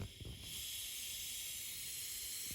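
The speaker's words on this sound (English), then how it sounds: "get my compressed air. So I blew it dry better" Compressed air hisses steadily from a nozzle while blowing a hand-cleaned direct-injected engine valve dry, a continuous close, loud rush after a brief start with no talk.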